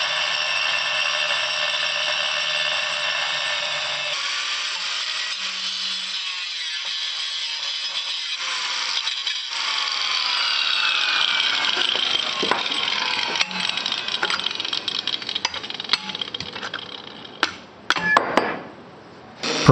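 A power tool grinds through the metal top plate of a cheap electric scooter, with a steady whining cut that rises and strains, then breaks into scattered clanks and rattles of handled metal near the end, close and without talk.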